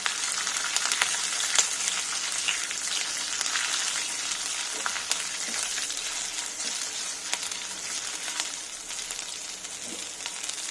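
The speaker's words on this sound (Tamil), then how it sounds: "ஒரு 5 சின்ன வெங்காயம் போட்டுக்கலாம். கொஞ்சம் புளி போட்டுக்கலாம். இதையும் வதக்கலாம்." Shallots and tamarind sautéing with fried lentils in a pan for a drumstick leaf chutney, a steady bright sizzle throughout with scattered light clicks of stirring, close and continuous.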